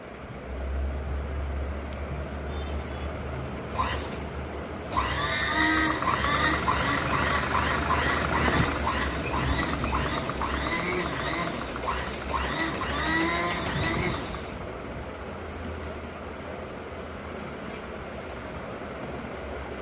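A household sewing machine stitching fabric after basic repair, its rapid mechanical clatter running steadily for about ten seconds in the middle over a low background hum, with quieter machine noise before and after.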